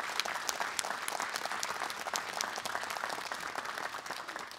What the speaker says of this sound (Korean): 여러분 다시 한번 뜨거운 박수 부탁드립니다.